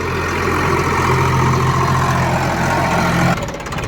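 An Eicher 551 tractor engine runs in a field, making a loud, close, steady low diesel rumble at an even pace throughout. The tone shifts and the engine eases slightly just before the end.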